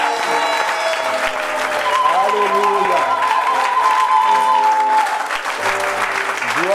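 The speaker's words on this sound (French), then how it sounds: "donnons-lui une bonne main d'acclamation" A church congregation gives loud, sustained applause, full and close, while singing or musical tones and voices carry over the clapping.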